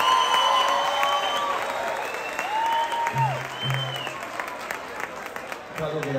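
Live concert audience in Cali applauding during a salsa tribute show, steady dense clapping and crowd noise throughout, with a voice on the mic over it.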